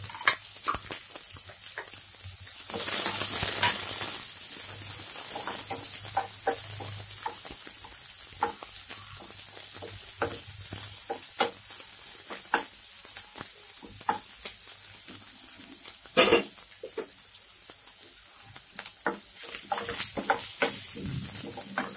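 Onions and green chillies for vegetable poha fry in a pan with a steady hiss and crackle, broken by intermittent clinks and stirring scrapes, with no talking.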